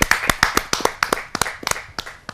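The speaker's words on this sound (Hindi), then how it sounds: "जोरदार तालियों के साथ हम उनका स्वागत करते हैं" Audience clapping to welcome a humorous poet at a Hindi kavi sammelan, heard as sharp, close handclaps in an uneven burst that thins out toward the end.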